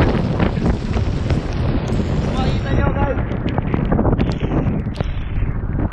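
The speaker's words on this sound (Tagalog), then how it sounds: "Grabe ang lakas ng ulan." Strong wind buffets the microphone with a roaring, rushing wash of heavy rain at an abandoned house in Binmaley, Pangasinan, loud and unbroken, while a person talks briefly over it.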